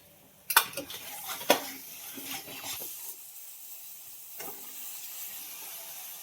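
Green peas tossed and sautéed in a pan for a vegetable dish, with a few sharp metallic clanks of a spoon against the pan early on and then a soft, steady sizzle that fades to a faint hiss.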